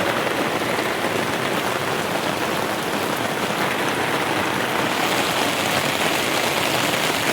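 A steady downpour of heavy rain hisses and drums densely on nearby surfaces, loud and unbroken across several seconds, easing only slightly in the upper hiss midway, with nobody speaking.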